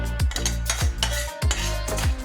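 A spoon stirs spiced potato filling for sandwiches in a glass bowl, giving several distinct clinks and scrapes against the glass in an uneven rhythm, close and fairly quiet.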